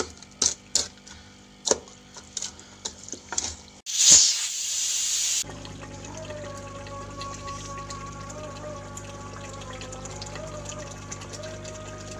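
A pressure cooker cooking saag gosht, mutton with spinach, lets out a steady loud hiss of steam for a second or two, then gives way to a low continuous hum with faint tonal whine.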